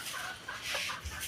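A farmyard chicken clucks a few soft, short calls at a moderate distance, faint and brief against quiet outdoor background, no talk.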